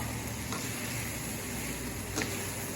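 Mushrooms frying in a pan for a homemade spaghetti sauce, a steady soft sizzle throughout with a couple of brief stirring scrapes, close and even.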